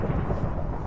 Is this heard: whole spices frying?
no